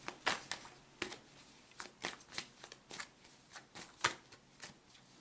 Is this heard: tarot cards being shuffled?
yes